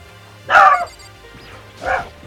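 A dog in the Danganronpa video game gives two short, sharp barks about a second and a half apart, close and loud, with nothing else over them.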